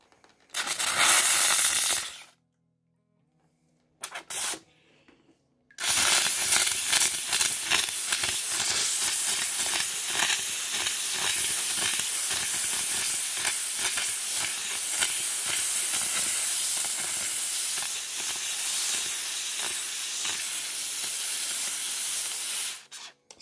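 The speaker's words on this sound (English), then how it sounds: "Steam cleaner right here. Watch." Steam cleaner spraying a hard jet of steam onto opalized wood to clear out cerium polish, giving loud, steady close-up hissing after a couple of short bursts and a pause, with no talking.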